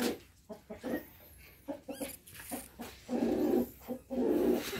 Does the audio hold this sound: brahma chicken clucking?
yes